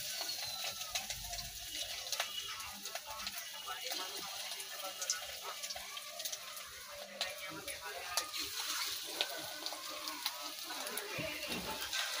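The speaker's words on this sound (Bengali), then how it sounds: "এটাকে এখন বড়া ভাজি।" Fritters (bora) frying in hot oil over lowered gas, a continuous soft bubbling sizzle with faint clatter, and a voice talking over it.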